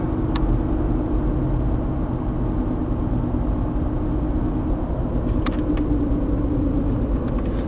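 Steady, close road noise from an Isuzu Trooper V6 SUV cruising at 55 mph, with a continuous low rumble of engine and tires and a few faint clicks over it.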